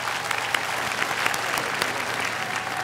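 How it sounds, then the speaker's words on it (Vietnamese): Steady, dense applause from a large audience at a Bolero singing contest final, continuous clapping throughout with a few sharper claps standing out, no voices over it. "Xin quý vị một tràng vỗ tay cho phần dự thi của Trọng Khoa"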